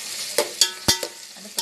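Onions sizzle and fry in a pot while a big ladle stirs them, giving several sharp scraping knocks against the metal over a steady frying hiss, close and without talk.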